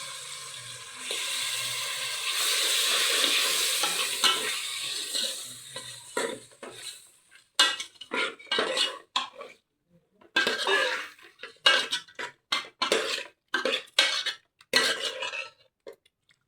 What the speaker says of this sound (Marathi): मटणाला चांगल्या पद्धतीने मिक्स करायचं आहे या फोडणीमध्ये